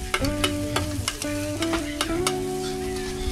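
Garlic frying in a cooking pot at a beach outing in Dahican, Davao Oriental, with steady close sizzling and repeated sharp clinks and scrapes of a utensil stirring against the metal pot, no talk.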